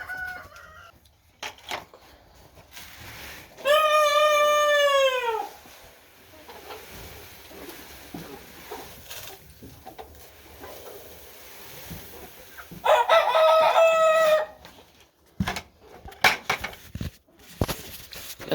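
Two loud rooster crows ring out among a flock of 76 chickens at feeding time, with scattered clucking and scratching between them on a farm outdoors.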